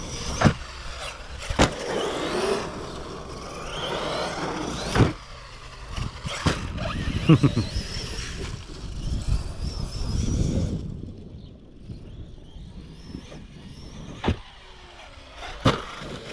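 A Traxxas Sledge radio-controlled car with a faulty receiver drives on grass, its electric motor surging and fading in bursts with rattling, clicking mechanical noise, fairly close, then quieter near the end.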